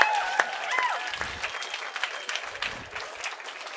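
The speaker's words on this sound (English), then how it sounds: "Give her a round of applause. Warm round of applause." Warm audience applause at a live arctic arts broadcast event, steady clapping from a crowd filling the whole stretch with a few brief faint voices and tones over it.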